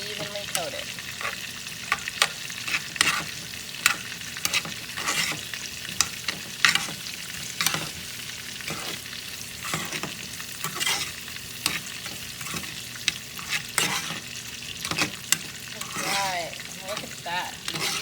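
Homemade chicken nuggets are stirred in a pan of sizzling spicy Sriracha sauce, a steady frying hiss broken by frequent scraping and clacking utensil strokes, close and continuous.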